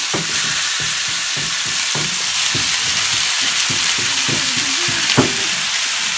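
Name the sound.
meat frying in pan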